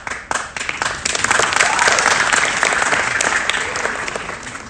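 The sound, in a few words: audience applause at a film festival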